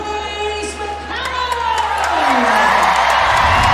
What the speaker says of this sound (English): You hear the big cheer for Grace McCallum